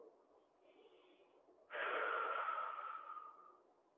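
A person doing stretching exercises takes a faint breath, then gives one loud, breathy exhale lasting about two seconds, close and alone.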